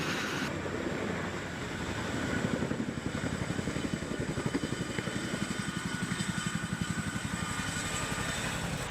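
Chinook military helicopter flying overhead, its engine drone building into a rapid, regular thumping of rotor blades that stays loud and close for several seconds.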